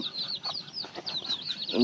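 A backyard hen with her chicks gives soft clucks among quick, high repeated peeping chirps, close and fairly quiet, with a brief voice at the end.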